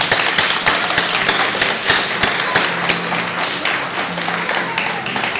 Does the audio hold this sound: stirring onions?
no